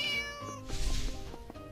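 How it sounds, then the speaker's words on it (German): A cat in the firefighting video game Flame Over gives a single clear meow over soft game music, followed by light game effects. "Katze, los, komm."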